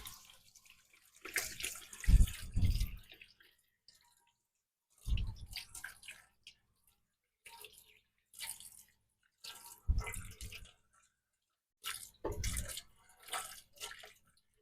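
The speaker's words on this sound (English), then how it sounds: "what I do is I wash it underwater, make sure I got everything" Tap water splashes intermittently over a cleaned, homegrown quail as it is rinsed at a sink, in close bursts of running and splashing separated by short quiet gaps.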